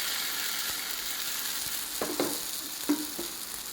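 Beetroot, carrot and coconut dosa batter sizzles on a hot ghee-greased pan, a steady close hiss with a few soft pops and light scraping knocks.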